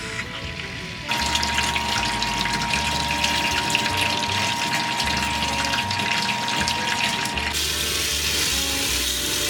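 Water switched on to fill a boat's freshwater tank through a Whale freshwater system, a sudden steady rushing flow with a low pump hum cycling underneath, continuous and fairly close.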